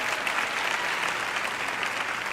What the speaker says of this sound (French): Une personne ici a applaudi un peu.